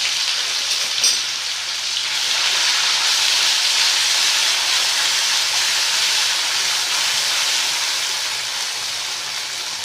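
Cumin seeds and ground spice paste dropped into hot oil for a vegetable curry, giving a steady, loud broadband sizzle that swells and holds throughout.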